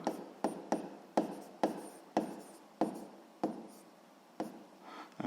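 Chalk or pen strokes tap and scrape in a brisk series of about ten short, sharp marks as physics formulas are written out, close and quiet, with no talk.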